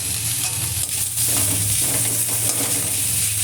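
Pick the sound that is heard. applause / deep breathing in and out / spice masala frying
spice masala frying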